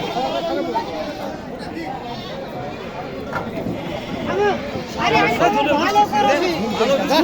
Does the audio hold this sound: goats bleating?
yes